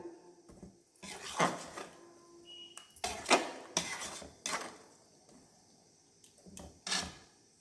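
A ladle stirs brinjal puli kuzhambu in a cooking pot, giving several separate bursts of scraping and clinking against the metal, each a second or so long with short quiet gaps between them.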